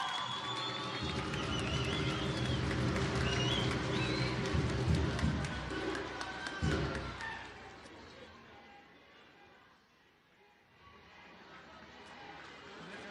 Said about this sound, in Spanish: muchas felicidades, un fuerte aplauso